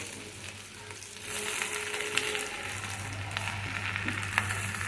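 Masala for crab curry fries in a pan, a steady close sizzle that swells louder partway through, with a few light scrapes of stirring.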